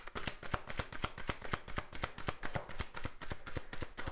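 Tarot cards being shuffled, a rapid run of crisp, papery riffles repeating in a steady rhythm for several seconds, close and clear with no talking.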